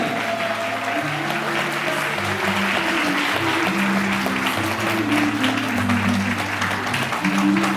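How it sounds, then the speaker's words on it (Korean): Applause from wedding guests in a wedding hall, a continuous wash of clapping layered over a prominent melodic music track that plays loudly throughout. "큰 박수 보내주세요"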